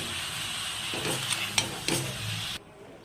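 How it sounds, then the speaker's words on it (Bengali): Cabbage is stirred in a sizzling pan, with a few distinct scraping strokes of the spatula over a steady frying hiss that cuts off near the end. "একটু ভালো করে নেড়ে একটু কিছুক্ষণ ঢেকে রাখবো।"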